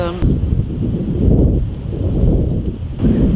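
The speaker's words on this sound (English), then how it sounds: "It's so windy." Strong wind buffets the microphone in low rumbling gusts, rising and falling throughout, with faint outdoor ambience.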